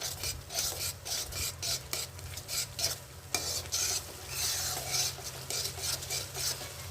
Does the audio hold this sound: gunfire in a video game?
no